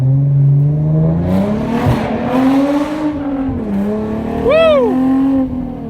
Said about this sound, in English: I'm gonna give you guys the bridge with the test pipes. This is extremely loud first gear.